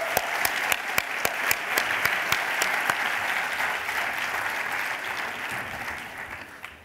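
An audience at a World Economic Forum event in China applauds after a performance. Steady applause fills the hall, with crisp rhythmic claps standing out near the front early on, then it slowly fades.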